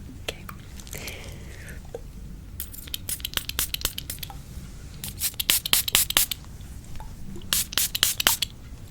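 A perfume bottle is shaken and then sprayed in quick repeated bursts of hissing mist, close and crisp against a quiet background.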